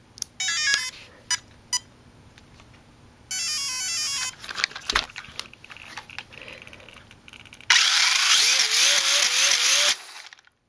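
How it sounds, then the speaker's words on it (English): Brushless 1/16-scale Ford Fiesta RC car on an initial test run with a slipping differential: bursts of high electronic whine from the motor, clattering handling, then a sustained loud rising screech of spinning wheels before it cuts off. "It's so fast that you can hear the diff slipping."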